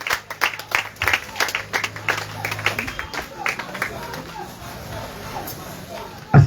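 A church congregation at a deliverance service applauding and acclaiming Jesus, with loud rapid clapping and crowd voices in the first half that thin to scattered claps and murmurs before a brief thump at the end.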